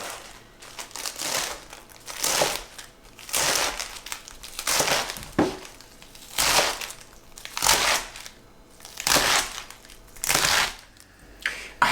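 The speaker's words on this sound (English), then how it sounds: "I'm going to cut it into about 1/2 inch strips" Knife slicing rolled escarole leaves into half-inch strips on a cutting board: crisp, crunchy cuts come in a regular rhythm roughly every 1.3 seconds, close and moderately loud, with no talking.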